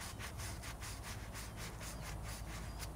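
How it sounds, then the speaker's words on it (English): An applicator dipped in P21S exhaust polish is rubbed back and forth in a steady, rapid scrubbing rhythm, close and continuous with no pauses or voices. "you'll dip it into the product and you just kind of rub it a few times"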